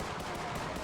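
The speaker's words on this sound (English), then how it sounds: "Were those gunshots?" A dense, continuous burst of rapid gunfire in a point-and-click video game, loud and noisy throughout the short moment, like automatic weapon fire.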